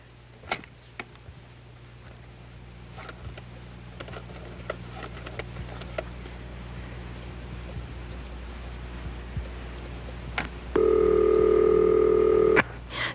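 Someone dials an old telephone in a 1973 film scene: soft clicks and small ticks over a low hum, then a loud, steady ringing tone on the line for about two seconds before it cuts off.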